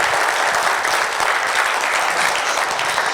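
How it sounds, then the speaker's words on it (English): Steady, dense audience applause at a conference talk on emotional intelligence, loud and even throughout the short stretch with no pauses or voices on top. "So a round of applause for you."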